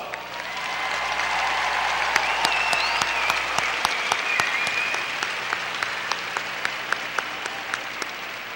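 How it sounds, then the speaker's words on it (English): A large audience at the L.B. Johnson High School 2016 graduation applauds the graduating class, a broad, steady wash of clapping with sharp individual claps standing out near the microphone. "Please give them a round of applause."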